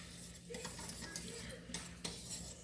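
A spoon scrapes and stirs a lower-fat cream cheese pasta sauce in a pot back on the heat, giving soft, irregular scraping strokes with a faint background hum, no talking.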